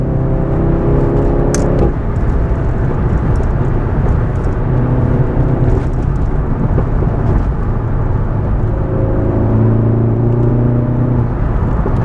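Mk7 VW Golf GTI Clubsport S engine pulls hard on a mountain road, a loud droning roar rising in pitch, dropping sharply at a shift, then climbing again through later gear changes with strong road and wind noise.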